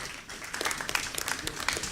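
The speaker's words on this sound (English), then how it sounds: "Please, a round of applause for them." An audience at a financial inclusion panel discussion applauds the panelists, a brief, moderately distant burst of scattered clapping.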